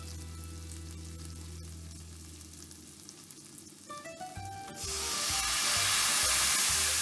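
A single sliced garlic clove frying over medium heat in a pan for pasta all'Amatriciana, with a low steady hum first, then a loud, close, continuous sizzle that swells in and holds until the end.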